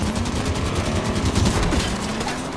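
Gunfire in the Halo video game, a dense, rapid stream of automatic shots pounding without pause, loud and close, layered with a low battle rumble and no voices.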